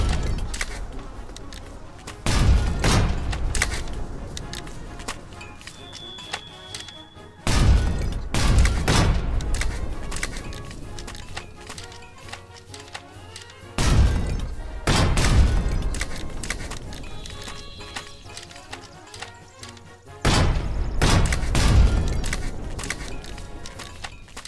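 Artillery guns firing in the video game Foxhole, heavy booming shots recurring every five to six seconds, each followed by a long rumbling tail over steady background noise.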